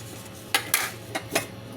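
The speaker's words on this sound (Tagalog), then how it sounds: "Ugas-ugas pinggan." Dishes being washed by hand at a home sink: four sharp clinks and clatters of plates and cutlery, close and distinct against a quiet background.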